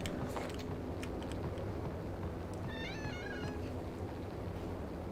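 A pet cat gives a short meow close by, heard over a constant loud background hum and noise.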